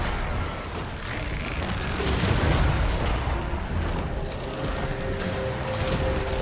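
Cannon fire from a massive cannon-armed construct in Total War: Warhammer 2, a dense rumbling barrage of booms and blasts rolling steadily over battle noise with no spoken voice.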